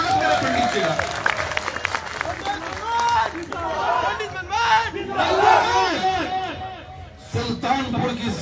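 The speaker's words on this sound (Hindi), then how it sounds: "तालियों की गड़गड़ाहट से स्वागत करें पंडित जी का।" A rally crowd in Sultanpur roars and cheers to welcome Pandit Manmohan Jha to the microphone, a loud, dense wash of shouting voices and clapping that swells and dips, with a sharp fresh burst near the end.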